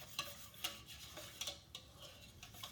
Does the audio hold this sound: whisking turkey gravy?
yes